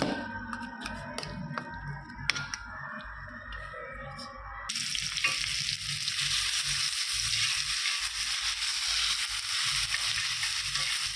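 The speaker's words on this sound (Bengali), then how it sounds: "হালকা মশলাটা ফ্রাই করে নেব" Spices frying on a tawa: after a few seconds of clinks and kitchen rustle, a loud steady sizzle takes over and hisses continuously to the end.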